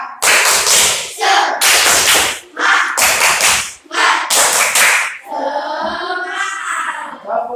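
A classroom of children claps the rhythmic 'tepuk semangat' pattern, loud sharp bursts in quick groups close by, then young voices chant together.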